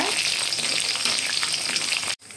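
Loud steady sizzling of food frying in a pan, close up, with a few stirring scrapes before the sizzle suddenly drops away near the end, while cooking Tamil thakkali thokku (tomato relish).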